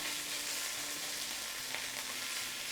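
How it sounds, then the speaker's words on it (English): Lemon chicken pieces sizzle steadily in a frying pan, a close, continuous hiss with faint crackles and no talking. "As the chicken starts sizzling, you turn it around a little to make sure that it cooks throughout."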